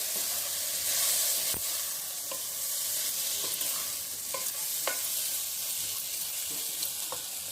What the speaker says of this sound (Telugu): వేసి కొంచెంసేపు బాగా వేపుకుంటాం